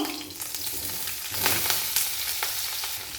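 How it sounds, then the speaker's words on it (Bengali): Paneer pieces fry in hot mustard oil in a kadai, a close, steady sizzle with bursts of crackle and stirring. "প্রথমে পনিরের টুকরোগুলো তেলে ভেজে নেব"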